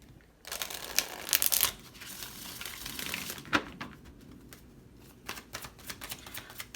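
Playing cards are riffled in a quick loud burst, followed by softer bridging and scattered light taps of cards being handled.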